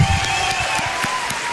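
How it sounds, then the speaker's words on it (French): A concert audience at the Olympia in Paris applauds a live hip hop performance, a steady dense wash of clapping and crowd noise holding at a constant level throughout. "applaudissez-les s'il vous plaît"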